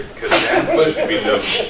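A single sneeze bursts out at a redevelopment commission meeting, followed by a second softer one, while a person keeps talking nearby.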